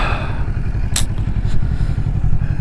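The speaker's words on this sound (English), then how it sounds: "The exhaust doesn't sound too good." A 2023 Kawasaki Ninja 650 sits idling in an empty parking lot, its exhaust giving a steady, close, low pulsing burble with an even, rapid beat, plus a brief clatter partway through.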